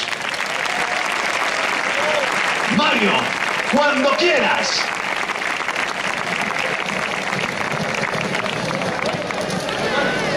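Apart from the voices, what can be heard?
audience applause for a dance school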